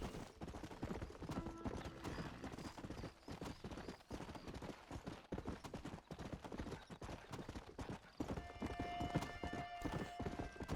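A horse gallops in Red Dead Redemption, its hooves drumming in a fast, steady clip-clop rhythm up close, with a brief whinny and game sounds layered over the run.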